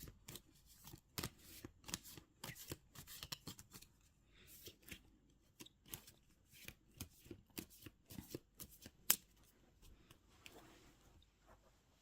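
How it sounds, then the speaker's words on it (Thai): Tarot cards are shuffled and cut close up in a quiet room, making soft, irregular riffling and slapping bursts with short gaps between them. "ขอเป็นตัวแทนสับไพ่ตัดไพ่ เลือกไพ่ให้คนเกิดวันศุกร์ในเดือนพฤศจิกายนนี้นะคะ"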